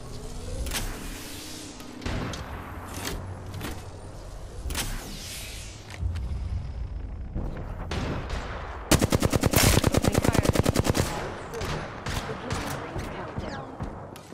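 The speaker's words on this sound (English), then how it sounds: "Getting shot at." Gunfire in the video game Apex Legends: scattered single shots and bursts, then a loud, rapid automatic burst in the middle, with more shots afterward over ambient game sounds.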